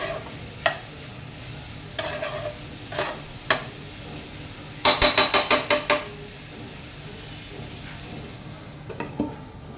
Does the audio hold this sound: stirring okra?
yes